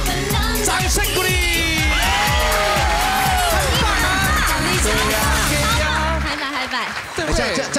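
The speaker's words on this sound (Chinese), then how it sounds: "掌声鼓励" A television studio audience cheering and whooping with scattered clapping, loud and busy throughout, with voices talking over it before it thins out near the end.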